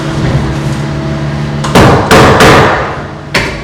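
Hammer blows driving wooden shims snug during an attic ladder installation: a low background hum, then four loud, sharp, close strikes spaced irregularly over the last two seconds.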